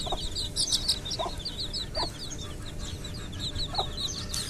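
Desi hens and brooded chicks at a poultry shed cluck in steady, overlapping chatter, with a few louder hen calls cutting through a constant low background hum; no one speaks.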